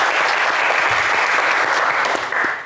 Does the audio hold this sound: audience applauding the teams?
yes